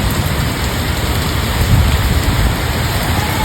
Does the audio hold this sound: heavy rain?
yes